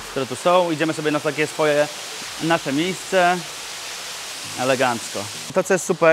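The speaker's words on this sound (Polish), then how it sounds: "Słychać szum wodospadów," Waterfalls rush at an outdoor hotel pool area, a steady broadband hiss running underneath someone talking close by through the whole stretch.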